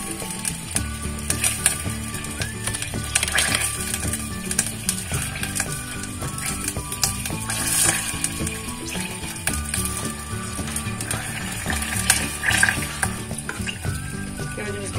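A spoon stirs semolina halva with sugar and vanilla in a pan, giving a steady sizzle with repeated scraping and knocking strokes, close and fairly loud, no voices.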